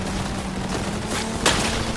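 Rapid bursts of gunfire in the video game Cyberpunk crackle over a dense noisy background, with a sharp louder shot about halfway through.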